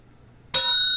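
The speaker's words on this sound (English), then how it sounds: "I'm ringing the bell for Hal." A single bright bell ding rings out suddenly after a quiet moment, its metallic tone sustaining clearly to the end.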